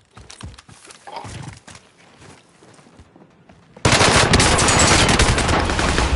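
Gunfire in a shooter video game, loud dense bursts of shots filling the second half after quieter scattered pops and rumbles earlier.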